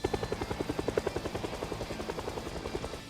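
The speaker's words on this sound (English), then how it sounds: "The helicopter is incredibly loud" Helicopter from the zombie survival game Project Zomboid flying overhead, a steady rapid rotor thump pulsing evenly at moderate distance, alone with no talk.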